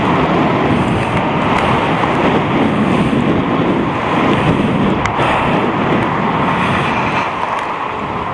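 Steady wind buffeting against a rider on a motorbike, a loud, continuous broadband rush with no pauses, on a hot sunny ride between houses.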